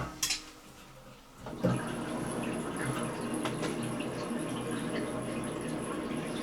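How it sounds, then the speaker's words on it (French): Electric water heater tank filling from the mains, a hiss of running water that rises sharply after a brief quieter start and then pours on steadily, close and fairly loud. "Donc l'eau est en train de monter à l'intérieur."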